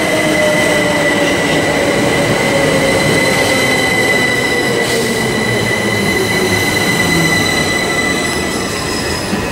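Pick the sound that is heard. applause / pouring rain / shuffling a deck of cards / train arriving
train arriving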